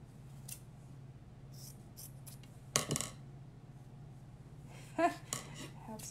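Scissors snip the ends off a shirt in a few sharp, close cuts spaced apart, with quiet rustling of fabric in between over a low hum.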